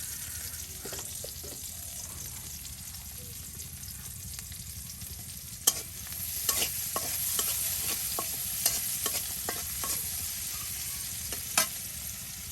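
Chopped onion and garlic sizzle steadily in hot oil in a rural kitchen, with a spoon scraping and clinking against the pan in irregular strokes, close up.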